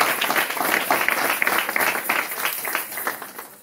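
A church congregation at a Sunday service applauds after the Bible reading, steady dense clapping from many hands in a reverberant hall, lasting throughout and tapering slightly at the end.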